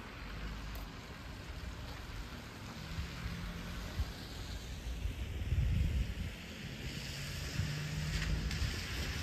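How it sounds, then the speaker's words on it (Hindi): Rain falling on a rainy day at a UK allotment, a soft, steady wash of patter with some wind rumble and a few low thumps, no speech. "और ये खूबसूरत रेनी डे"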